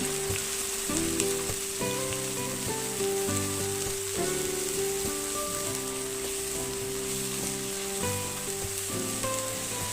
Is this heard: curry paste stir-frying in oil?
yes